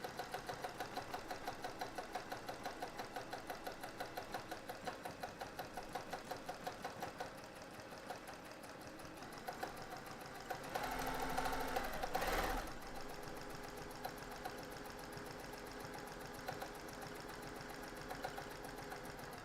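A sewing machine runs fast and steadily while free motion quilting a Dresden quilt, its needle stitching in a rapid, even rhythm close by, briefly louder mid-run before settling back to a constant pace.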